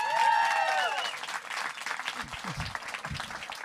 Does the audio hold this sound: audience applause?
yes